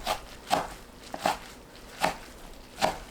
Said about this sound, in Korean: 10분 불린 미역은 물에 헹구고 1cm 간격으로 썰어줍니다.